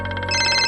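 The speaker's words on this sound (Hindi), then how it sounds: "સુરેશ ભાઈનો ફોન છે।" Phone ringtone chiming in a steady, loud electronic melody with a brighter repeating pattern in its second half, close and alone.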